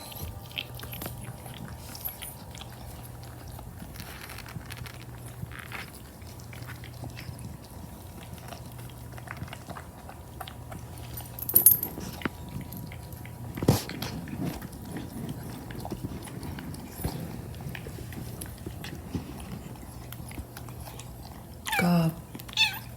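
A Bengal cat named Moogrob eats food close by, with quiet repeated chewing and crunching sounds and a few louder bites in a hushed room.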